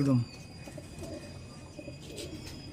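Pigeons, offered for sale, coo in low, soft, rounded calls near at hand, with a louder burst at the very start and steady faint background noise throughout.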